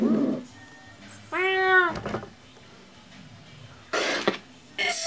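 A cat meows clearly once with a rising, harmonic cry in a quiet antique mall, followed by a couple of short breathy, throat-like noises after a pause.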